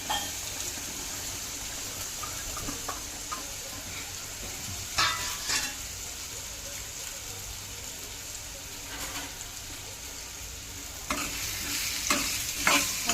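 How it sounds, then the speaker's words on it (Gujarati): Raw mango pieces being stirred in a frying pan for kachi keri nu shaak produce a steady low sizzle, with repeated scraping spoon strokes close up, clustering toward the end. "આપણે બધું સરસ મજાનું હલાવીને મિક્સ કરી દઈશું"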